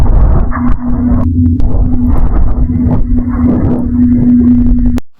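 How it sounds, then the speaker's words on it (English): Heavy, ominous breathing from the monster in the horror game Nightshift 1 Remastered, triggered when the light is off, plays loud and close over a low droning hum for about five seconds before stopping abruptly. "The green hitbox is to trigger the breathing if you turn off your light."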